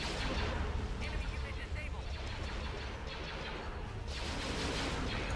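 Spaceship weapons fire in a Star Wars: Empire at War space battle: dense, continuous booming blasts and laser bursts rumbling together at high volume, with a voice talking over the battle.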